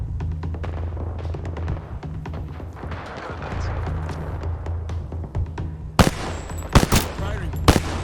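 Rapid automatic gunfire in the Apex Legends battle royale shooter, a dense stream of shots over in-game background noise, ending in several loud, sharp close bursts.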